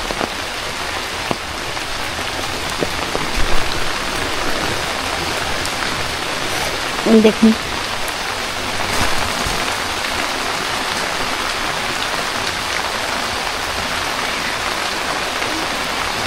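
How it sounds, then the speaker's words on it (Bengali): Light rain falls in a village lychee orchard as an even, continuous hiss of drops, with a brief voice cutting in near the middle. "হালকা পাতলা করে বৃষ্টি হচ্ছে"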